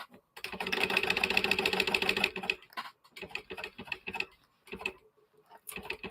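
Sewing machine basting the back panel of a bag, a fast steady run of rapid needle clatter for about two seconds, then shorter stop-start bursts of stitching with pauses between.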